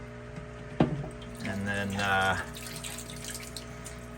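On an aquaponic tank, a reopened inlet valve lets water rush through for about a second. A sharp knock comes just before and a quiet hum runs underneath, and someone speaks briefly.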